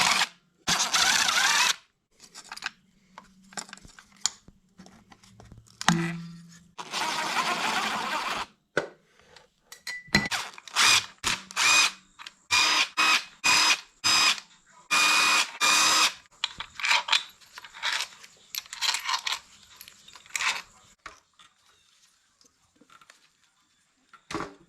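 Bursts of an impact wrench or ratchet loosening the bolts on a car's transmission fluid cooler lines, in short stuttering runs separated by clicks and pauses, fairly close and loud.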